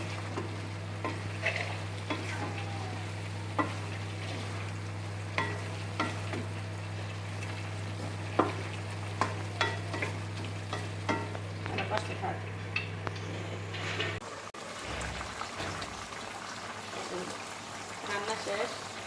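Poa fish bhuna curry is stir-fried in a pan with a steady sizzle and repeated clinks and scrapes of a spoon against metal, under a constant low hum that stops near the end.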